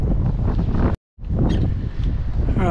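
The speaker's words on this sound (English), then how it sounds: "It's a very windy day today." Strong wind roars across a microphone at Cape Hardy Beach on the Eyre Peninsula, loud and rough, cutting out abruptly for a moment before gusting back in.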